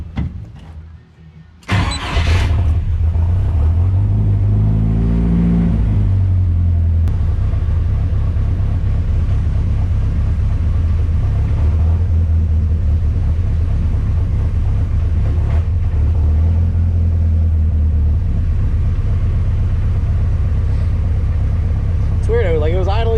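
A car engine starts up and idles with a deep, steady rumble, briefly revving and sputtering unevenly early on, then running on continuously.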